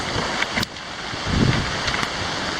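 Strong wind and choppy waves hit a sailboat during a squall at sea just outside a shipping channel: a steady, loud rushing roar with gusty buffeting and a swell of water noise midway.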